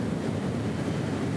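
Ocean waves wash steadily in the background during a yoga class, a soft continuous surf roar with gentle low rumble and no distinct breaks, alone and unvoiced.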